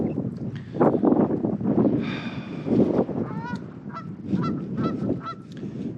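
Waterfowl near a lakeside wild campsite in the Lake District, honking repeatedly in loud, close calls, spaced irregularly over light wind noise.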